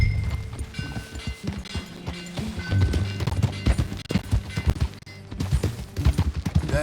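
Horse hooves clatter in a rapid galloping rhythm while riding in the video game Red Dead Redemption 2, a steady run of thuds mixed with game ambience and a music bed, moderately loud and continuous.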